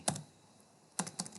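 Several quick keystrokes on a computer keyboard while working in ARCHICAD, a short burst near the start, a pause, then a few more taps, close and fairly quiet with no talk.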